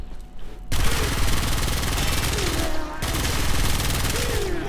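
A Tiny Supra Vandal with a riven fires in a video game as a dense, loud sustained burst of automatic fire that breaks off briefly near the middle and then resumes.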